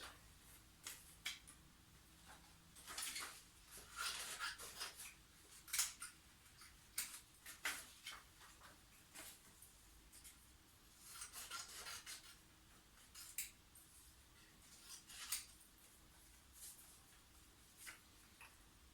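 Scissors cutting through a knitted sweater in a children's science and play activity, heard as a long series of short, crisp snips and rasping cuts in irregular rhythm, faint and close with no talk.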